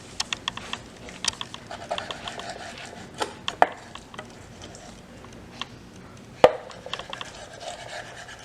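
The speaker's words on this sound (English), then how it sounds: "So now we're going to go ahead and start doing one with the eel fish. And I'm personally going to cut it straight." A knife cuts straight slices of eel on a board for sushi rolls, giving sharp, close, irregular taps and knocks with quiet gaps between them, without any talk.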